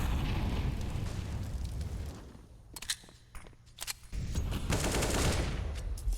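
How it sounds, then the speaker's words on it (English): Automatic rifle fire from an AK-47 in a Counter-Strike match on the Mirage map, with dense bursts of shots and explosive booms filling the opening seconds, a brief lull of scattered pops, then heavy sustained firing again. "AK spam attempted by Annihilation"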